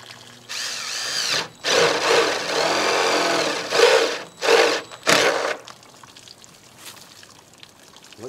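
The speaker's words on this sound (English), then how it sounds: "Now I do need to drill me some weep holes in these so they don't retain quite as much water." A power drill bores weep holes in split barrels used as planters, running in several whining bursts of a second or two, separated by short pauses, close up and fairly loud, with quieter handling noise after.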